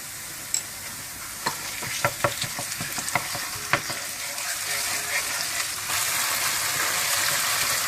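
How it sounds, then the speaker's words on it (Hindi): Onions fry with ginger garlic paste in a steady sizzle that fills the pan, broken by occasional stirring scrapes and taps, growing louder and denser in the final seconds. "प्याजों को भूनकर आपने प्याजों को ब्राउन होने से पहले आपने इसमें अदरक लहसुन का पेस्ट डाल देना"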